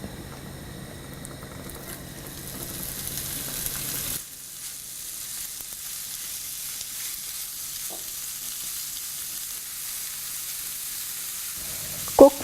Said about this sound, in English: First, I'm going to add my bacon in this heated skillet.